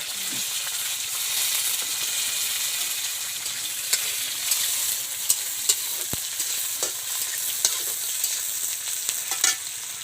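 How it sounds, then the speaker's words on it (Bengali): Five-spice, bay leaf and onion frying in hot oil, a continuous close sizzle with a few sharp spatter pops scattered through it. "তেলটা গরম হয়ে গেছে আমি এতে সে নিয়েছি বন্ধুরা পাঁচফোড়ন তেজপাতা আর পেঁয়াজ এইগুলো দিয়ে দেবো"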